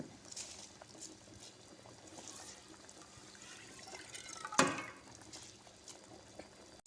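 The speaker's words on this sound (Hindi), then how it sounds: "पानी में उबाल आ गया, अब इसमें डालेंगे चावल" Water boils in a pot for aloo pulao, a soft, steady bubbling with faint splashes and one brief louder clatter midway, heard alone without talk.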